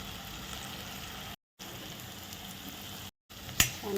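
Red chili powder and turmeric sauté in hot oil with a steady, close sizzle that cuts out briefly twice, then a sharp utensil clink near the end.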